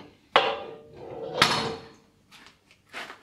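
Metal parts of a Neptune Max lathe clunk as the tailstock is taken off, two sharp knocks with sliding scrapes between them, followed by a few faint shuffling handling noises, close and with no talking.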